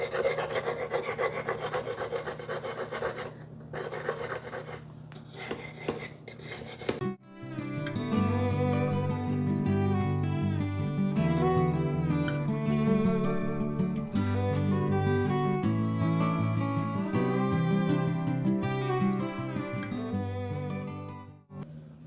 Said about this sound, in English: That plastic scraper is not really scraping off what I want it to.